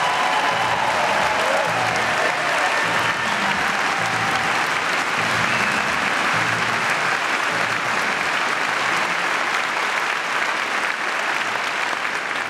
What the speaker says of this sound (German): Rasten Sie aus, applaudieren Sie eskalativ, liebevoll